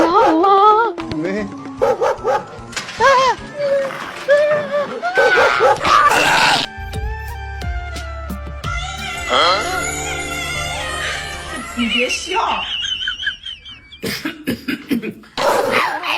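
A dog barks loudly and repeatedly amid a jumble of voices, shouting and clattering noise, with tonal sounds rising and falling throughout.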